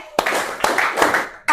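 Classroom students clapping in a clapping game, a few sharp, loud group claps spaced apart in a quick sequence, with talk around them.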